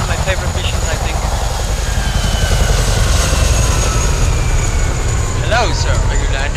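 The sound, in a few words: helicopter in video game Hitman Absolution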